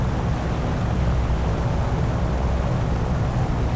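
A propeller plane engine from the War Thunder video game drones steadily and loudly from start to finish, a dense, unbroken roar with no talk over it.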